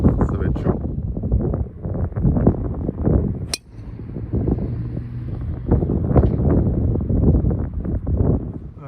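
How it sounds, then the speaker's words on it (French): Strong wind buffets the microphone on a golf course, a steady low rumble that runs the whole time, with someone talking over it. "beaucoup de vent, ça va être pas facile sans micro"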